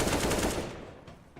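Rapid automatic gunfire from a Counter-Strike: Global Offensive match, a loud dense burst that fades out over about a second, leaving a few fainter shots afterward.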